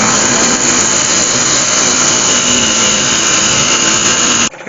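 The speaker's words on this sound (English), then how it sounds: "First thing I'll do is just hollow that down through with a Forstner bit." A Forstner bit bores down through a wood turning blank as it is hollowed out, with a steady, loud, dense whirring grind that holds for over four seconds before it stops abruptly.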